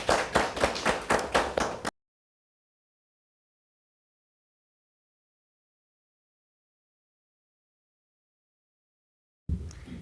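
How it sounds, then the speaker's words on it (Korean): Brief rhythmic clapping at a policy debate forum welcomes a panelist, about eight evenly spaced claps lasting under two seconds, followed by a long silence. "박수로 환영합니다."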